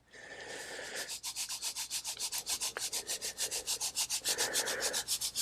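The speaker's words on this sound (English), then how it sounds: "I'll give them their grit." Grit is scattered and rubbed over a red wiggler worm bin in steady, rhythmic gritty strokes, close and fairly quiet, with no voices.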